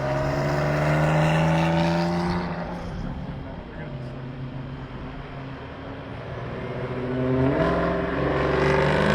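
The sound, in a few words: Hennessy ZL1 Camaro race car passing on track at Gingerman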